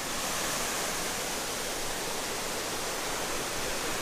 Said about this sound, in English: I think I've just come to possibly waterfall heaven